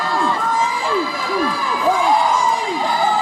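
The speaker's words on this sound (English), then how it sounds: "Here are the people in the crowd debating the referee's count there." Wrestling arena crowd at a match, a continuous roar of many voices with shouts and whoops swelling as the referee's count is disputed, loud and sustained throughout.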